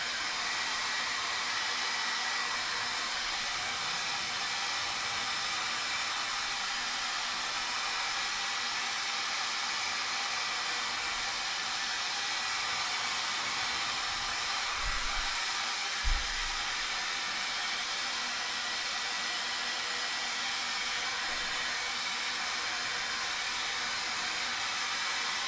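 A heat gun running continuously while heat sealing a cosplay chainsword prop, a steady hair-dryer-like blowing roar at constant volume with a couple of brief low thumps partway through.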